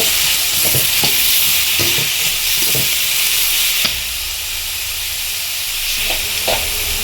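Onions sauté in a hot pan for chicken gravy, a loud continuous sizzle with a string of spatula taps and scrapes against the pan, one sharp clack midway, close and with no one speaking.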